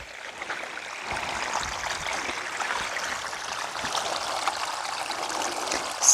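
Spring water flows from a source in a steady, close trickling rush, with a continuous watery babble that holds evenly throughout and no voices.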